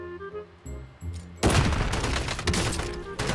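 Gunshots in a Warzone match: after a quiet, tonal opening, a sudden loud burst of rapid fire erupts and continues densely to the end, close and heavy.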